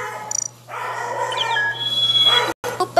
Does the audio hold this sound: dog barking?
yes